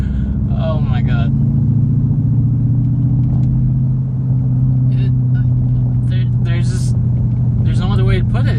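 A Mercedes E55 AMG swapped to a manual transmission rumbles along from inside the cabin with a steady, loud low engine drone, while someone talks over it throughout.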